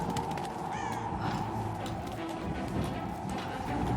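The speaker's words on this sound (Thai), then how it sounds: "กาดำอีกแล้วอ่ะ" Black crows caw a few times near the start of a Tomb Raider cliffside village scene, then fade into a dense, continuous game ambience with faint background rustle.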